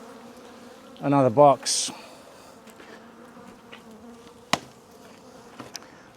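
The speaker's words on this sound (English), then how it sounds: "Bees are getting mad at me." Angry bees buzz around an open, tightly packed beehive, a tense whine rising in short loud bursts near the start, then a faint hum with a few sharp knocks while a person talks briefly.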